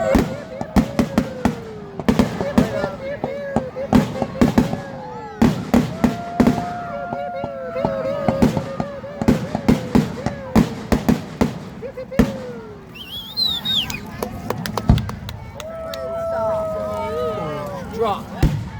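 Fireworks at a public display burst in a long series of sharp, loud bangs and crackles, some near and some farther off, while spectators talk and whistles whine between the explosions.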